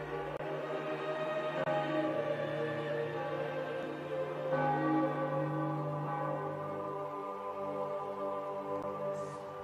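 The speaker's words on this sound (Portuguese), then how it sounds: "logo os sinos começam a tocar e não há mais dúvidas." Church bells ring out over a city after the 2013 papal election, a dense layered peal of overlapping tolls heard at a moderate distance, swelling and sustaining for the whole stretch with no voices.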